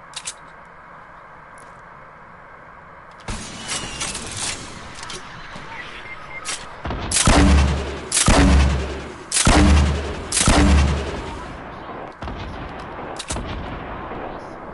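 Gunfire in the battle royale game Fortnite, a sudden burst of shots followed by several loud, booming volleys in quick succession, close and sharp.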